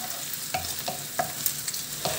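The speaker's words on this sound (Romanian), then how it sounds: "o prăjim și cu usturoi ca să iei aroma aia de usturoi" Chopped garlic frying in a pan for carbonara: a steady soft sizzle with a few scraping stirs at irregular intervals, close and fairly quiet, no talking.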